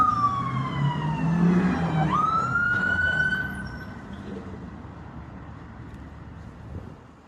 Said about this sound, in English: He literally turned on his siren just to get through the traffic.